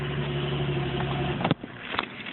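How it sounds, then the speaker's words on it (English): A Nissan car engine runs at a steady idle close by, then the hum drops away abruptly with a brief clunk, followed by a few faint knocks and rattles. "And the car starts."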